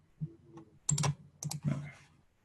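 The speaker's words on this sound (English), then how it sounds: "This is what I get for trying to type something in." Keys clack on a computer keyboard in a few quick close bursts, with short gaps between the clusters of taps.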